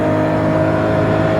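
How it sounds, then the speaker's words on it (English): Porsche 917 race car's flat-12 engine holding a loud, steady high-revving drone, close and continuous for a brief moment. "Hear that flat 12 engine go."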